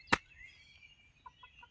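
Marans chickens clucking in a coop: one sharp near squawk at the start, then a few soft, quick clucks toward the end, with no talking.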